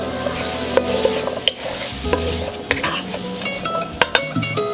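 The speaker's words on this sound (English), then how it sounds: "Stir these guys up." Vegetables being stirred in a pot for a vegan veggie curry soup: a bright continuous sizzle with repeated clinks and scrapes of a utensil against the pot, close and fairly loud.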